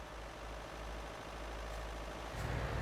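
A truck engine idles in the TruckersMP driving game, a low, steady rumble heard faintly and alone throughout.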